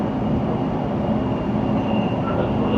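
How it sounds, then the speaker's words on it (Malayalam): A metro train passes close by with a steady, loud rumble and a constant roar that holds evenly throughout, with no voices. "വേറൊരു മെട്രോ നമ്മളിൽ നിന്ന് പാസ് ചെയ്ത് പോകുന്നുണ്ടായി"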